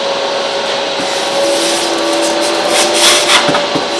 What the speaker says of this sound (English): a better option than to keep drilling these out and trying to get the sawdust out of the way is just grab your vacuum.